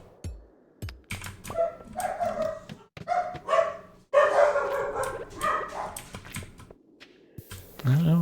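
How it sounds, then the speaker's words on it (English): Several dogs bark and yip repeatedly at a farm, sharp overlapping outbursts in irregular bursts, fairly near, with faint keyboard clicks in the background. "I don't know what the dogs are yelling about."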